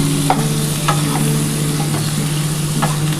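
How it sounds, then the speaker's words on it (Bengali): Papaya and chickpea curry being stirred in a pan, with steady sizzling frying throughout and a few scraping strokes of the spoon, close and fairly loud with no talking. "এবার এটা ভালো করে নাড়াচাড়া করে দিচ্ছি"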